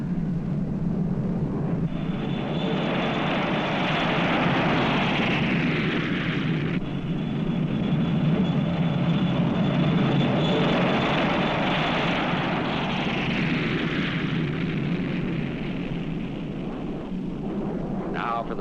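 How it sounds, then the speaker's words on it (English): Rocket plane flying under its own rocket power in 1959 newsreel footage, a loud continuous roar that swells and fades over about eighteen seconds with a high whine on top. "The plane took off under its own rocket power."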